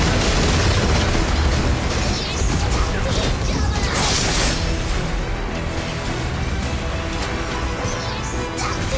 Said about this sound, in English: Blue Team Tower has been destroyed!